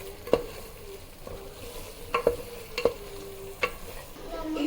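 Ingredients frying in oil in a pan for a mint pulao: a soft, faint sizzle with a few sharp clicks of a spoon stirring, and no talk.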